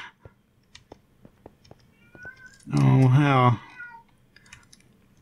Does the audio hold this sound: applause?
no